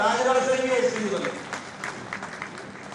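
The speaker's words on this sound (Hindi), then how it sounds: "जोरदार ताली बजाओ" Political rally crowd clapping loudly at first, the applause thinning into scattered claps and fading crowd noise toward the end.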